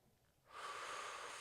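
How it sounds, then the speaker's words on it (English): A single deep exhale during a full-body stretching routine, a soft breathy rush that swells in after a quiet start and holds steady, close and faint, with no talking. "Breathing deeply here."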